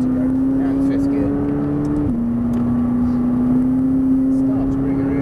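McLaren 570S sports car lapping the Thruxton race circuit, its engine droning steadily with a sustained tone that dips briefly at a gear change then climbs again, heard from inside the cabin, with people talking.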